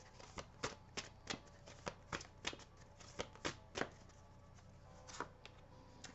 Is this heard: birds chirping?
no